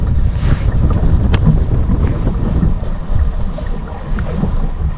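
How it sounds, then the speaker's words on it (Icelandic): Strong wind roars and buffets the microphone throughout a keelboat sailing race at the Icelandic championship, with water rushing beside the hull; the gusting is loud and continuous, surging in waves with no voices. "Hér er vindur sem er að koma núna."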